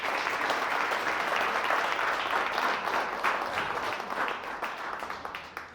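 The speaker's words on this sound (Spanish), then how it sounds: "Dale un aplauso al Señor en lo que toma agüita" A church congregation at a revival service applauds with sustained, moderately loud, even clapping that thins and softens slightly toward the end, with no voices over it.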